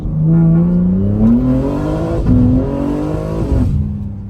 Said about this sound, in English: Just straight wheel spin